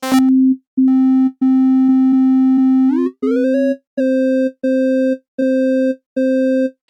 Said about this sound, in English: So let's use a sine wave.